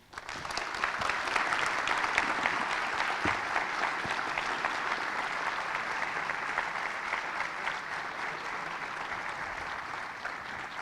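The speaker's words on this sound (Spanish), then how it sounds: "fuerte el aplauso para Guillermo Crespi, como ya lo estabas recibiendo" A conference audience gives sustained, even applause for speaker Guillermo Crespi, dense clapping rising quickly and holding steady for about ten seconds without fading.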